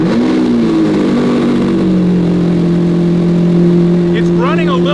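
A Lamborghini Aventador V12 with a new battery cranks and settles into a steady, droning idle that runs lumpy rather than smooth, loud and close, with a whistling tone near the end.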